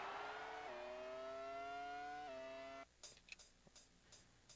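A Formula One car engine in the N64 game Monaco Grand Prix drones steadily, its pitch stepping up in gear-like jumps, then cuts off, leaving a few faint clicks and ticks.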